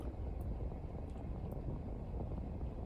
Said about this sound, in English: There's something flying over, a plane.